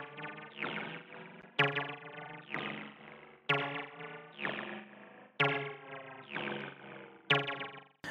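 A squelchy, distorted 303-style acid synth line from a house remix repeats in short pulsing phrases with echo, bouncing between the left and right sides, faint and even in level.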